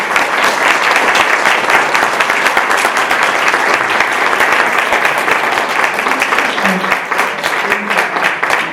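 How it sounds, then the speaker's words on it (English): Audience at a criminal justice reform forum applauding loudly, with thick continuous clapping held throughout and a faint voice briefly under it. "let's have another round of applause for"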